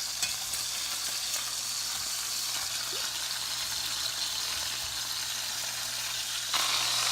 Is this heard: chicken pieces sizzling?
yes